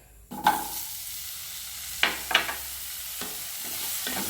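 Paneer cubes fry in a masala for paneer butter masala as a spoon stirs them through the pan, with a steady sizzle and a few distinct scraping clacks, close by and with no talking.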